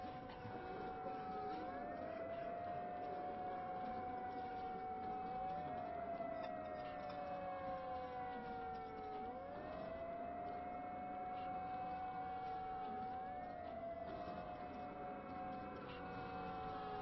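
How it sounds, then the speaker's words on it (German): A civil-defense siren in the video game Metro Last Light Redux wails in long, repeating rising and falling sweeps, loud and continuous throughout. "Was für eine Sirene."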